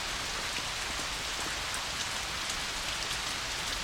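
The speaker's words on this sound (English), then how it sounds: "I want to hear the raindrops falling here and down." Steady rain from a video game patters densely on surfaces, a constant close hiss of drops that holds evenly throughout with no voices.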